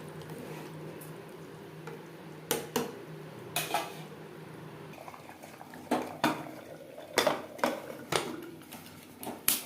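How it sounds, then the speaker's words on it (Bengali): Mutton being mixed into gravy in a pot with the spice-rinse water, a metal spoon scraping and knocking against the pot in scattered clanks over a soft wet squelch, close and alone. "মশলা ধোয়া জল গ্রেভির সাথে মাটন বেশ ভালো করে মিক্সড করে দেবো"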